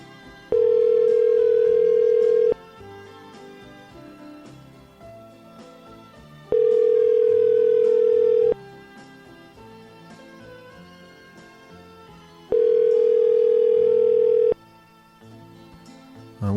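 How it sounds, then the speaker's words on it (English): Ringback tone on an outgoing telephone call: three steady two-second rings spaced about four seconds apart, loud and clear over faint background noise, with no talking. "So I'm going to give dear old Zach a call right now."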